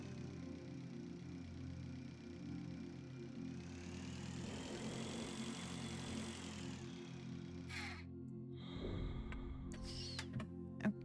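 The bike in the space survival game Breathedge runs with a steady, low engine drone that hums on evenly throughout, fairly quiet, with a rising whine in the middle and a few clanks and clicks near the end.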